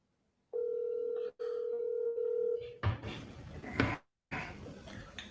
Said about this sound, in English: Let's go ahead and give him a call, guys, and we will get Dennis on the phone here